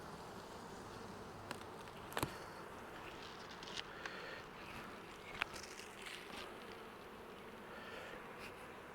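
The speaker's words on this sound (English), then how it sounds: "Looks like I've got a lot of bees over here in this corner for some reason." Steady low hum of many honey bees droning at close range in a nuc hive, with a few faint clicks and knocks scattered over it.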